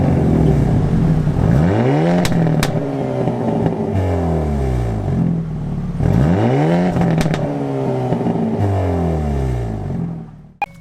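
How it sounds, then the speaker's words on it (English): A Hyundai Elantra N's dual exhaust revs hard in two repeated rising sweeps, each dropping back with crackling burbles and sharp pops, loud and close, with no talking. "you just imagine all the burbles and pops that come out of both sides of the exhaust"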